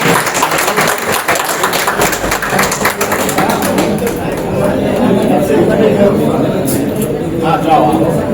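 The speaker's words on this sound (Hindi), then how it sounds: "एक बार जोरदार तालियां हो जाए" A crowd applauds at a Hindi book launch event, with loud, dense clapping mixed with chatter and voices throughout.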